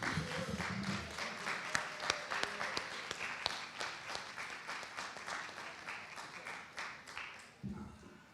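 An audience at a Black arts showcase in Cleveland claps for a poet in sustained, moderately loud applause that thins out toward the end, with a few voices at the start and close.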